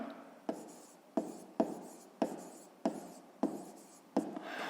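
Handwriting on paper while working a fifth-grade maths exercise: close, scratchy strokes with about seven sharp taps of the writing tip landing at a steady pace, each trailing into a brief rubbing scrawl, with no talking.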